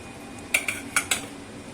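A metal strainer of boiled Maggi noodles is shaken over a kitchen sink to drain, giving four quick, light metallic clinks and rattles close by over a faint steady background.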